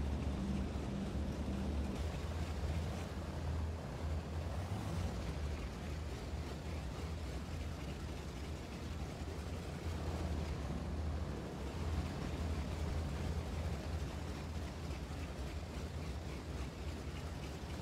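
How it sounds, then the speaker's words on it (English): Douglas C-47 engines running in a flight simulator as the aircraft begins to taxi, a constant low, rumbling drone with a broad hiss on top, steady and moderately loud throughout, with no talking. "Engines are warm and ready."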